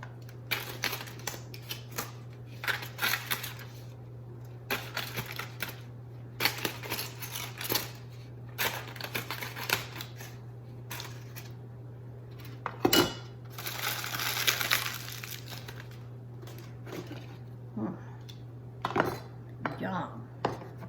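Roasted tomatoes, onions and garlic being chopped, irregular clusters of knife and dish clatter over a low steady hum, with quiet gaps between bursts.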